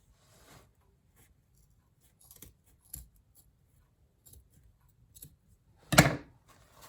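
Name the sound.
scissors cutting paper for a DIY beehive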